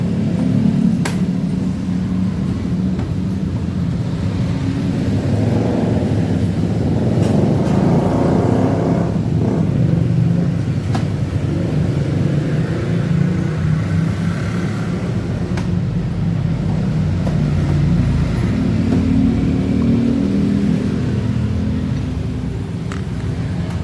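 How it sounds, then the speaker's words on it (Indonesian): A Yamaha NMAX scooter engine idles continuously during an oil change, a steady low rumble holding at an even level throughout with no one speaking. "Mesin masih menyala dan kita matikan dulu"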